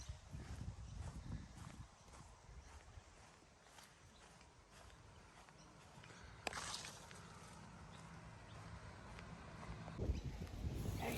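Hooves of a horse clip-clop in a slow, uneven walking rhythm outdoors on a countryside walk, faint and somewhat distant, with gusty wind noise rumbling on the microphone.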